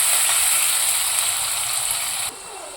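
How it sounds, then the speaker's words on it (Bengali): Thinly sliced onions sizzle in a pan with a steady, bright hiss that stays even and close, then drops off suddenly near the end. "পেঁয়াজ দিয়ে দিলাম। একটু লালচে লালচে করে ভেজে নেব।"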